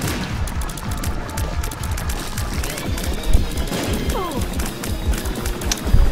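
Bursts of explosion and rapid crackling in the Binding of Isaac video game, repeated sharp thuds amid dense chaotic game noise, loud and constant without speech.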